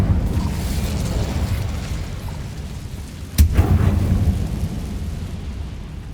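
Incendio fire spell cast in Hogwarts Legacy: a single sharp, loud blast of flame erupts over a steady low rumble, followed by a brief roaring tail.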